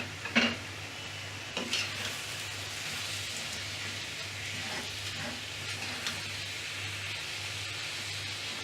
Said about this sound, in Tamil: கிளறி அவிய விடவும்